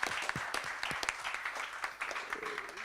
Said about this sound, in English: maybe we should give them a round of applause.